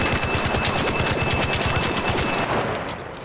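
Fast automatic gunfire in a multiplayer shooter game from a weapon fitted with a compensator, a dense, loud burst of rapid shots lasting about three seconds before fading.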